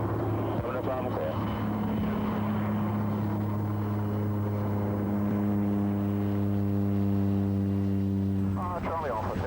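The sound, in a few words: aircraft taking off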